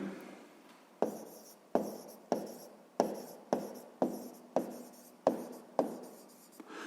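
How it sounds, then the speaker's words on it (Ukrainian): A pen writes on paper during a sixth-grade math exercise, giving about ten quick separate strokes, close and fairly quiet, each a sharp scratch that trails off, no talk. "І записуємо відповідь."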